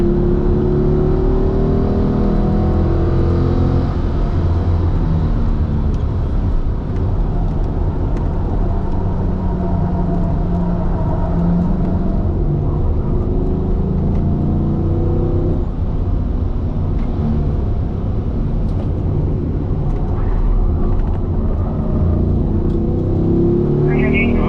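A Corvette runs a lap on a race track, its engine droning and revving steadily throughout with continuous road and wind roar, while a voice talks over it intermittently.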